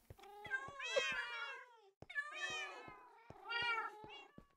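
Cats in a video game meow in three long, drawn-out, expressive calls, close and clear, punctuated by sharp clicking taps between them.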